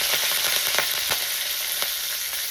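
Cumin seeds and curry leaves fry in hot tempering oil for a vada pav potato filling, producing a loud, continuous sizzle with scattered sharp pops and crackles.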